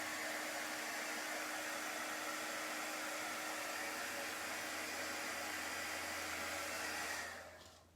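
A heat gun or hair dryer blows steadily at close range to dry chalk paste on a cut-out pumpkin, a loud continuous whooshing roar with a faint tonal hum that cuts off abruptly near the end.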